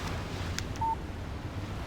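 A short electronic beep sounds as a phone text message alert in the Alan Wake video game, heard once and briefly over a faint background of wind.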